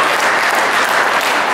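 A crowd at a scholarship award ceremony applauds loudly, a thick, continuous wash of clapping from many hands with no pause.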